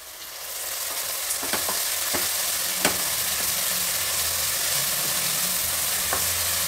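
Tomato, onion and finely chopped mint leaves frying in a pan, a steady close sizzle throughout with a few sharp clicks of a spoon stirring.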